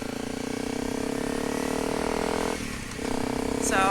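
A Honda 250 L Rally motorcycle engine drones steadily while being ridden, close and fairly loud, with a brief dip in the engine note near the end.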